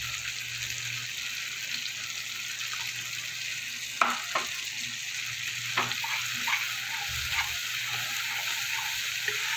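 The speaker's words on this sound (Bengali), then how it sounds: "দিয়ে একটু কিছুক্ষণ মশলাটা আমি কষিয়ে নেব।" Spice paste with salt, turmeric and Kashmiri chilli sizzling in hot oil for a Bengali pomfret curry, a steady close hiss with a few soft stirring scrapes and taps, no voices.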